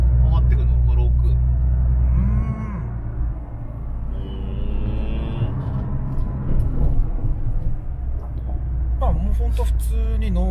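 A Liberty Walk Nissan GT-R in normal mode accelerates and shifts quickly up through its gears, a low engine rumble heard from inside the car under steady conversation.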